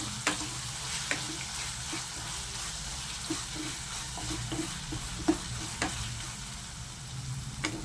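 Cloves and cinnamon sizzle steadily in a hot pan for chicken gravy, with a continuous frying hiss broken by occasional scraping clicks as a spoon stirs, fairly close and without talk.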